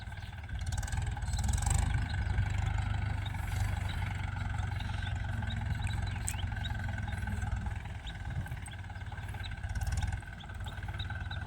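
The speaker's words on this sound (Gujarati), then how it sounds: "એટલે જયેશભાઈનું ટ્રેક્ટર આવ્યું છે ઉતેરણા કરવા" A tractor engine drones steadily as it arrives on a farm for sesame sowing, a low continuous rumble that stays fairly loud and even throughout with no talking.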